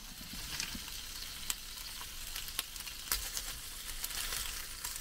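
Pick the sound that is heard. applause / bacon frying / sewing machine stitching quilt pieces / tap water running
bacon frying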